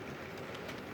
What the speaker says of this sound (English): This is a nice smooth loco as well.